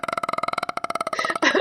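A person vocally imitates a growling stomach with a rapid series of rhythmic, voiced pulses that slur into a rougher, gurgling rasp at the end, close and fairly loud.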